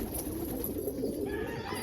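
Soft, low cooing from colored pigeons runs under continuous outdoor background noise, a brief, steady stretch without any voices.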